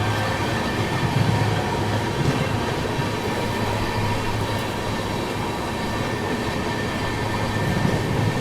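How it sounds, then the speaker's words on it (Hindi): The Azimabad Express rolls past at a slow speed on Indian railway tracks, a loud, continuous rumble of wheels and carriages close by with no break. "यहाँ पर अपने से क्रॉस होती है अजीमाबाद एक्सप्रेस दोस्तों"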